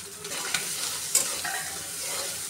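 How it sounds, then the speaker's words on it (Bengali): Shrimp frying in a pan with turmeric, salt, onion and green chilli, a steady close sizzle with a few sharp stirring clinks. "এখন আমি হলুদ লবণ দিয়ে চিংড়ি মাছটা সুন্দর করে ভেজে নেব।"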